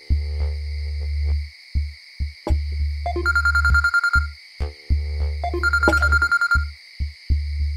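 A phone ringing repeatedly, a loud close electronic ring in bursts separated by short gaps, with a low hum under it and bright trilling tones cutting in twice.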